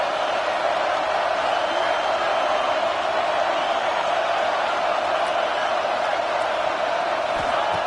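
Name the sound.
stadium crowd cheering in a football video game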